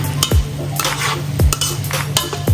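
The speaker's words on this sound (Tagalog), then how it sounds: "Haluin natin ulit" Bopis being stirred in a pan, loud rhythmic scraping strokes of a spoon against metal over a low hum and faint sizzle, close up with no voices.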